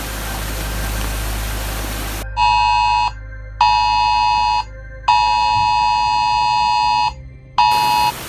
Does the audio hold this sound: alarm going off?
yes